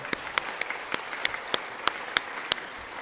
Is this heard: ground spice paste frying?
no